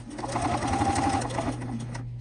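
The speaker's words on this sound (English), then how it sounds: "And then I'm going to finish stitching these." A sewing machine stitches a fabric bunting pennant for a zipper pouch, a steady close mechanical whir that runs for about two seconds and then stops.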